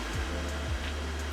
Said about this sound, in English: Fan's on, so we have a working fan now, guys.